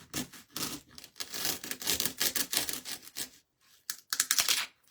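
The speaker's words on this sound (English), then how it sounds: "I'm going to cut a notch out of it." Close scraping and snipping as a notch is cut out of a Christmas sign during a craft update, a dense run of rough cutting strokes, then a short pause before a final burst.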